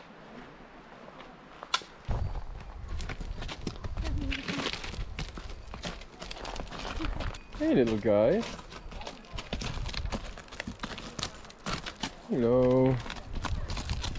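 Donkeys trot past on a mountain hiking trail in the Pyrenees, their hooves clip-clopping in a steady patter with a braying call or two, while people talk nearby.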